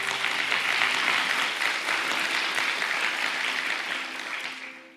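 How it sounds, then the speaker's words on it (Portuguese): A church audience applauds during a sermon, loud, continuous clapping that holds steady and then tapers off at the end. "Aplauda."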